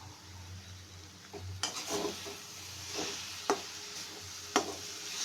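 Crushed camphor stirred into a sweet naru mixture in a pan for Lokhi Pujo, with a soft steady scraping and a few sharp clinks of a utensil against the pan, fairly close, no talk.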